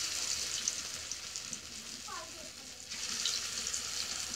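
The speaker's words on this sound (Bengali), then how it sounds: "তেল গরম হয়ে গেছে, বড়াগুলো দিয়ে নিচ্ছি।" Taro flower fritters fry in hot oil with a continuous bright hiss and sizzle that dips briefly midway, then swells back up close and steady.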